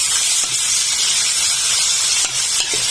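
Cabbage and pork stir-frying in a pan, a steady loud hiss and sizzle filling the whole stretch with a few faint scrapes of the spatula, no one talking.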